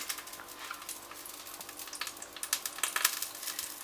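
Salmon sizzling in hot oil with spices in a pan, a soft, steady crackle with small spits and pops growing denser toward the end, with no voices.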